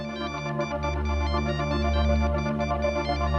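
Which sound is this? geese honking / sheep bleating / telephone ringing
telephone ringing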